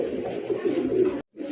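A racer pigeon hen at a pigeon market coos in low, throaty, rolling tones across a continuous stretch, then breaks off for a brief gap before cooing resumes, fairly close and steady.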